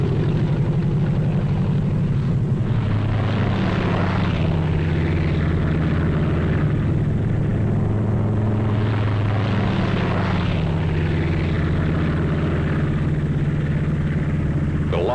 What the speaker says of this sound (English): They had massed hundreds of British and American gliders in preparation for the most gigantic aerial towing job ever attempted.